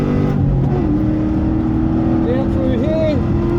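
A car on a race track, its engine droning loudly and continuously with rising pitch sweeps as it accelerates, heard close from inside alongside faint speech.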